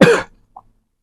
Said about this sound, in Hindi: खांसी से परेशान हो चुके हैं।